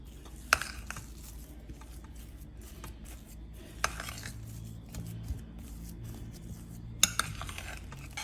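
A spoon scrapes and clinks against a bowl while powdered spice is mixed into mashed potato, giving soft stirring rubs with a few sharp taps on the bowl's rim, close and fairly quiet.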